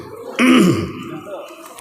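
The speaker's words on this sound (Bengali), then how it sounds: "কাশি আসছে" A single harsh throat-clearing cough from a preacher during a religious sermon, close and loud, followed by a quieter rasp as the voice settles.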